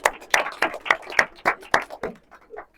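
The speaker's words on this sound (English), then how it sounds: "let's give a round of applause for her." Small audience at a Toastmasters-style table topics contest claps in a sparse round, distinct individual hand claps close by in an uneven rhythm that tapers off near the end.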